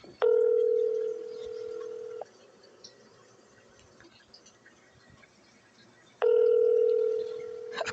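Ringback tone of an unanswered call to an office during a workday: two long electronic rings about four seconds apart, clear and steady with quiet line hiss between them.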